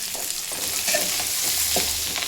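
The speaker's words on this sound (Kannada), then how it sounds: "ಬೆಳ್ಳುಳ್ಳಿ ಫ್ರೈ ಮಾಡೋಕ್ಕೆ ಹಾಕ್ತಿದ್ದೀನಿ" Garlic sizzling in hot oil in a pan for a village-style bassaru curry, a steady close crackling fry with faint stirring and no talk.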